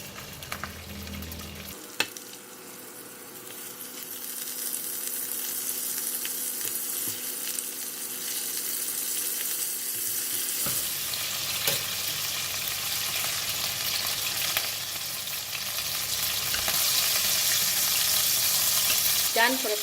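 Prawns fry in hot oil in a pan after the garlic has been scooped out, making a loud, continuous sizzle that swells louder toward the end, with a few faint clinks.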